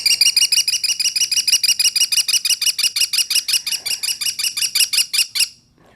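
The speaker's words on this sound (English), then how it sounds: "So what you hear there is Cruiser's call" An American kestrel gives a loud, rapid series of sharp, shrill calls, dozens of evenly spaced notes in a fast rhythm, close and clear, before it stops abruptly.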